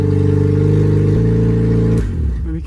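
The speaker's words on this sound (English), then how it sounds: "I can start the vehicle using a screwdriver" A Toyota Corolla engine hotwired with a screwdriver runs at a loud, steady idle with a rising rev, then drops off abruptly near the end with some clatter.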